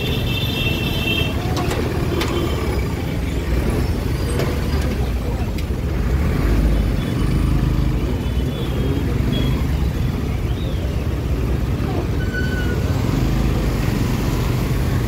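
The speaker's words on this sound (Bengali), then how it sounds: "প্রচুর জাম, এই টোটো আর বাইকের জাম লেগে গেছে পুরো একদম" Roadside traffic jam of e-rickshaws and motorbikes on a Howrah road, a dense continuous rumble of idling and creeping engines with scattered mechanical clatter and occasional brake hiss, recorded close from a motorbike.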